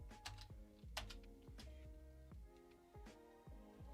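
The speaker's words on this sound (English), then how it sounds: "Maybe I should type in Power Edge." Keys clack on a computer keyboard in a quick, uneven run of close taps, with a steady electronic hum underneath.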